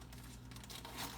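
A plastic bag of kosher marshmallows being torn open and crinkled in a kitchen, a short, close burst of rustling and crackling plastic.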